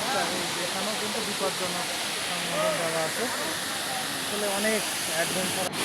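Khoiyachara waterfall at Sitakunda roars in a steady, broad, loud rush of falling water, with people talking over it throughout.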